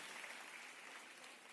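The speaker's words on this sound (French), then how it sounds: "Applaudissements pour les Millennium." A crowd at the ESWC 2015 esports event applauds the Millenium team after their match against OpTic. The clapping is brief, faint and continuous.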